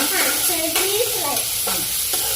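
A tempering fries in a hot pan for shavige uppittu, with tomato and curry leaves sizzling as a spoon stirs and scrapes it, steady and close, with no one talking.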